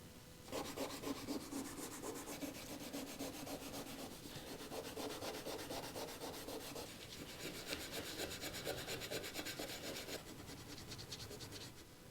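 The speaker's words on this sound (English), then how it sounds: "then do the whole thing finally with a 400 grit to give a nice key, ready to give a nice smooth finish to the new paint" A motorcycle cam cover on a Triumph scrambler is sanded with 400 grit paper for fresh paint. Close, steady rhythmic rubbing strokes run continuously with no talking.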